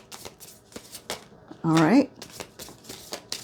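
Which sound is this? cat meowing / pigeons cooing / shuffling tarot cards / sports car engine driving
shuffling tarot cards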